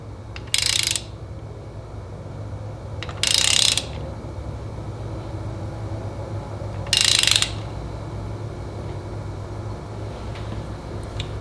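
A torque wrench tightens spark plugs on a Dodge Caravan with a 4.0L engine. Three short, sharp ratchet clicks sound close by, spaced a few seconds apart over a faint background hum.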